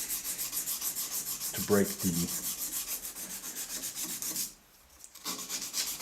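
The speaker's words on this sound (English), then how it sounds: "I'm just going to hit the surfaces with some 180 grit emery cloth" Fine 180 grit emery cloth rubbed by hand over a machined bronze bushing held in a bench vise, a steady close scratchy hiss that keeps going, broken by a short pause near the end.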